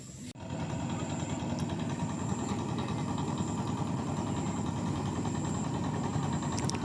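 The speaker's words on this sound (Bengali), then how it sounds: "এটা হচ্ছে মাছ ধরা নৌকা" A fishing boat's engine idles on a river, giving a constant, moderately loud drone with a faint rattling texture that starts abruptly and then holds steady.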